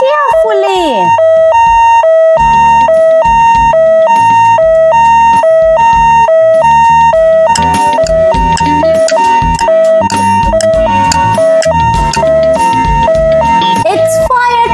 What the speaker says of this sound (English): It's fire truck.